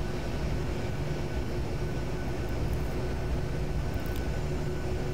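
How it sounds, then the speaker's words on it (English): Steady jet engine whine and broadband rumble of an American Airlines Boeing 737 taxiing at Detroit in Flight Simulator X, continuous and even throughout with no voices. "And we are taxiing to runway 22 left for departure."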